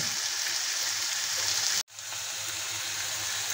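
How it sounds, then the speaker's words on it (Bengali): Ginger and green chilli spice paste fries in a pan for egg korma, giving a steady, fairly loud close sizzle with no talk, briefly broken by a sharp cut to silence before the hiss resumes. "মশলাটা ভালোভাবে ভেজে নেব।"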